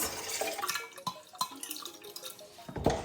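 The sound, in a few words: water poured into rye bread scald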